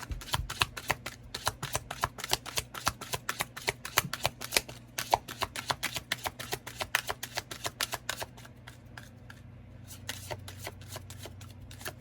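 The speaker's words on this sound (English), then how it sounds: "we are going to pull these Romance Angel Oracle cards" Romance Angel Oracle cards being shuffled in a long run of rapid, crisp riffling flutters, close and steady, over a low background hum.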